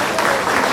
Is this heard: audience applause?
yes